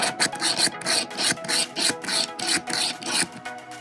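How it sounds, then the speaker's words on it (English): Rhythmic rasping and grinding as a hand drill bores into wood, fast regular strokes repeating about twice a second, close and continuous. "Let's fix the drill and try to make a hole on the wood board."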